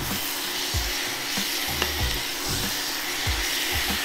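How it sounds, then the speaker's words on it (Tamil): Garlic and bone-in chicken sautéing in a pan for Tamil-style pepper chicken, a steady close sizzle with occasional stirring scrapes throughout. "பூண்டு கொஞ்சம் வதங்கினதும் நம்ம சிக்கனை சேர்த்துடலாம்"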